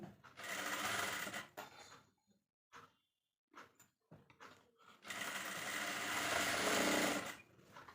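A sewing machine stitches blouse fabric in two long loud whirring runs, separated by a pause filled with clicks and handling noises of the machine and cloth.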